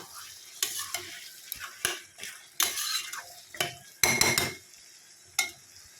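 Mutton being fried with spices in a pot and stirred with a metal spoon, sharp scraping and clanking strokes at irregular intervals over a low, steady sizzle, close and without any voices.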